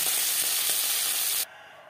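Pakal eel fish frying in oil in a kadai, a loud, steady broadband sizzle with faint crackles that cuts off abruptly near the end, leaving quiet.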